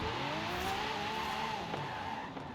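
A car in Forza Horizon 5 roars and screeches as the clutch is dumped and the brake held, giving a loud, sustained tire squeal over engine noise with no voices.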